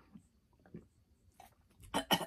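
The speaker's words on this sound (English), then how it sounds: "now I'm going to cough. Went the wrong way." A person coughs a few times after something goes down the wrong way, quiet at first and then ending in two or three louder, harsh bursts close to the microphone.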